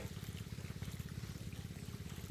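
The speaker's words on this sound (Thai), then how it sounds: "มาชมการสูบน้ำใส่แปลงนานะคะ" Water pumped into a rice paddy field, a rapid rhythmic chugging pump engine with gushing, gurgling water, steady and moderately close.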